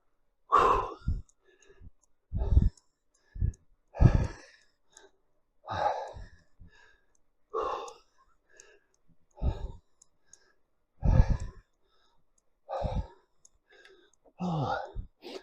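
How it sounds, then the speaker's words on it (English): Close, breathy panting and puffing from one person, coming in short heavy bursts roughly every second and a half, with sharp inhales and sighing exhales and no other sound around it. "there's me panting and puffing"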